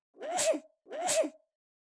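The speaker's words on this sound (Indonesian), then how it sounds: "langsung bersin-bersin" Two sneezes from one person in quick succession, each a sharp, close breathy burst, separated by a short silence in an otherwise quiet setting.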